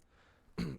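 A single short, throaty cough from a video game character bursts out after a stretch of quiet background hum, fairly close and loud.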